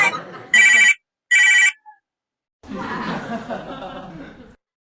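A telephone rings in two short bursts, close and clear. A person then talks over faint room noise.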